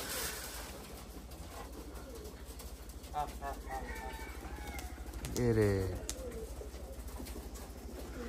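A pigeon at a pigeon-catching contest coos in low, throaty phrases nearby, mixed with outdoor ambience and people talking over it.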